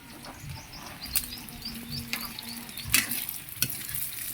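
Liver frying for igado, a steady sizzle in a pan with stirring scrapes and a few sharper clatters, while faint bird chirps sound in the background.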